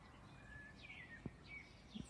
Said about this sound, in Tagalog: Ang dami na rin ibon pumupunta rin sa akin.